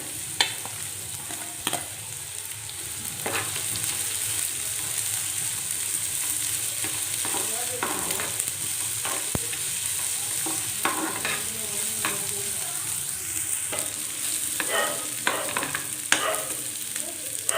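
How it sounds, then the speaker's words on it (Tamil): Onion and garlic sauté in a pan for chilli prawns, with a steady sizzle throughout and scattered clicks and scrapes of a spoon stirring, close and alone with no talk. "வெங்காயம் போட்டு நல்லா வதக்கி எடுத்துக்கலாம் இந்த வெங்காயத்தை கூட பூண்டும் போட்டுக்கிறேன்"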